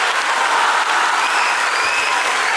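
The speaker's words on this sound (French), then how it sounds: "je vous demanderai d'applaudir très très fort" Loud, steady applause from an audience at an outdoor village cultural show on nature conservation in Congo, a thick continuous wall of clapping close by with no speech over it.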